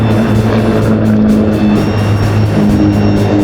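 A Palfinger PAL Pro 20 hydraulic crane mounted on a vehicle runs at full speed, giving a loud, steady motor and hydraulic drone with sustained low humming tones throughout.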